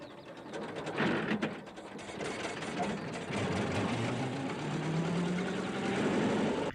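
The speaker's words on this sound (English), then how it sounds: "we'll go ahead and show a clip of him turning the starter. That was a manual starter back in the day" A hand-cranked manual engine starter on an early motor car turns with a mechanical ratcheting, clattering whir that grows slightly louder and steadier toward the end, with a faint rising tone underneath.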